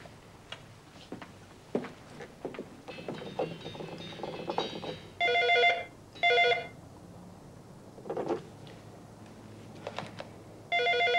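A telephone rings in short repeated bursts, fairly loud and close, following a stretch of soft ticking and quiet room noise.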